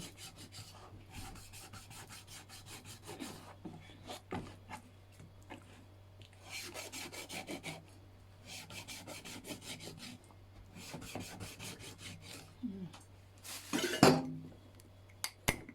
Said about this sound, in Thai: เอาแป้งล้างปลา มันจะได้ไม่ขาว